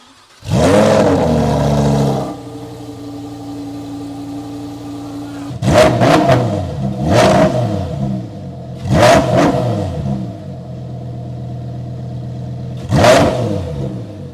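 A Lamborghini Huracan Technica with a Ryft titanium exhaust blips and revs to about 3,000 RPM in short, loud bursts, with a low rumbling idle in between, close to the listener.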